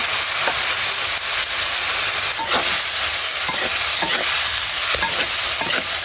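Spices with salt, turmeric and chili powder sizzle in hot oil in a pan, a loud continuous frying hiss broken by repeated scraping stirs close by, with no talking.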